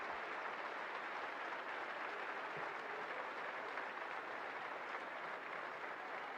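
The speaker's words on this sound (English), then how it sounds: "And applause, warm applause all round for the young talent." Warm applause from the crowd at a women's football match, Southampton against Bristol City, after an injured young player leaves: a steady, distant wash of clapping that holds at an even level throughout with no voices on top.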